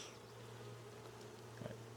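Honeybees buzz faintly and steadily around an open hive during an inspection, a low continuous hum with no talking.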